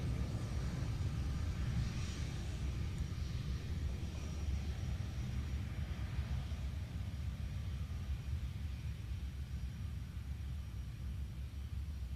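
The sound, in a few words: Boeing C-17 Globemaster III military airlifter flying at airshow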